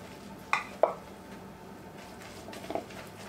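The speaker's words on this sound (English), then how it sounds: "You want to stir it and get it." Garlic powder and Italian seasoning are stirred into spaghetti, with two sharp utensil clinks against the dish followed by a soft scraping stir, close and quiet.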